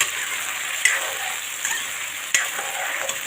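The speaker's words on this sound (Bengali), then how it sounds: "আলু আর ফুলকপি ভেজে নেব।" Potatoes and cauliflower with turmeric and salt sizzle in hot oil, a soft continuous fry broken by a few sharp utensil clicks and stirring scrapes, with no talk.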